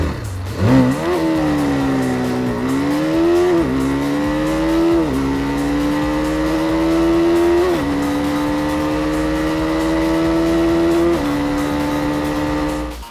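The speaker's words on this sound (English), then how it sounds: "However, the BMW doesn't sound that great at idle, but definitely improves as you push it hard towards its red line." A BMW G 310 R single-cylinder motorcycle engine revs hard toward its redline, pitch rising and falling through several loud, close sweeps that then settle into a sustained high drone, with no talking.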